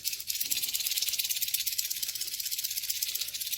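A rattlesnake shakes its tail rattle, a steady, dry, close buzzing hiss that continues without a break.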